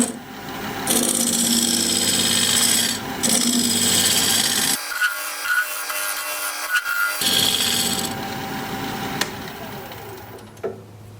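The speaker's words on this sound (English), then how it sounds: "I'm going to use this diamond point tool to square up the sides of the tenon" A diamond point tool cuts against a spinning cherry bowl on a lathe, squaring the tenon with a harsh scraping rasp that comes in bursts, drops out briefly and resumes amid the machine's hum, with no voices.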